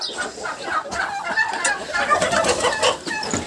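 Hens and a turkey cluck and murmur close by in a busy flock, with a few sharper calls breaking through the steady chatter.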